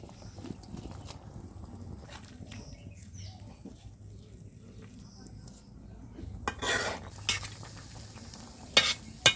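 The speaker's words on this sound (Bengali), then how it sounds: "ডিম পোড়া ছেড়ে দেবো।" An egg frying in a pan in a rural kitchen while being stirred, with a soft, steady sizzle underneath and a few clinks and scrapes of the utensil against the pan, louder toward the end.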